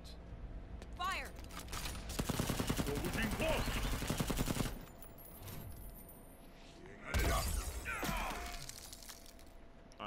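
Soldiers open fire with guns in the Mortal Kombat X fighting game, a dense burst of rapid gunshots lasting a couple of seconds, followed later by a second loud crash-like burst, with a voice speaking and game effects between.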